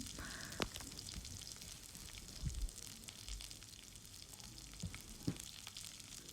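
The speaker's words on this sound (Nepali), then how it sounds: "त्यसपछि हामीले प्याज फ्राई गर्छौँ।" Onions frying in a pan for Nepali sukuti barela, a faint steady sizzle with a few soft stirring knocks and clinks throughout, no talking.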